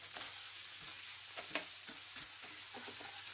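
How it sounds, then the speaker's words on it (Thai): Spaghetti with dried chili being stir-fried in a pan makes a steady close sizzle broken by scraping stirring strokes and light clatter, with no talking. "เริ่มผัดทุกอย่างให้เข้ากันให้หมดเลยครับ"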